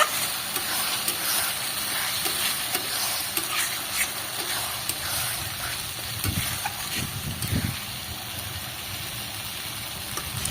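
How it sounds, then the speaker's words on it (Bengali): Potatoes sizzling and frying with spice masala in a pan for ghugni, a continuous loud crackling sizzle with occasional stirring scrapes, close up. "এবার একটু ভালো করে কষিয়ে নেব।"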